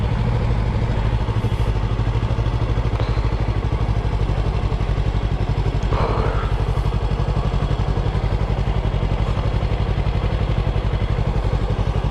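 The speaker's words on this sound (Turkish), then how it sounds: "Bu 2021 R25'lerin egzozlarından böyle ufak tatlıdan bir tuhaf bir ses geliyor" Steady engine of a 2021 Yamaha R25 motorcycle droning close by throughout, a constant low exhaust rumble with a slight odd tone and no break.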